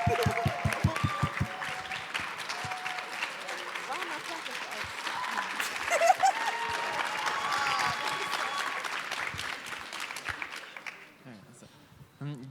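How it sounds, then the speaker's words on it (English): Audience applause at a Back of the Yards College Preparatory High School event, steady clapping through most of the stretch with some voices mixed in, tapering off near the end. "let's give them a round of applause"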